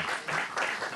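Audience applause breaks out in a California Senate oversight hearing room, a dense wash of clapping from a crowd that swells and rolls for a second with no voices over it.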